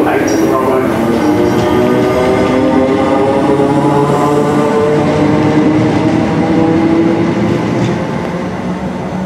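A train at Reading station produces a loud, steady engine drone with layered, sustained tones and rumble that stays close and constant, easing slightly near the end.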